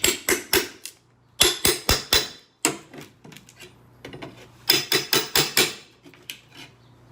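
An exterior door frame being pried up with a pry bar, giving bursts of sharp knocking and creaking cracks in quick clusters with short pauses between them, close and fairly loud.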